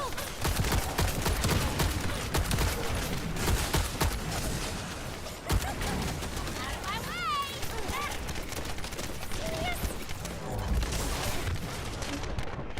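Continuous rapid gunfire from a gun in the game 7 Days to Die rattles on without break, dense and loud, with a few brief chirps and impacts in between.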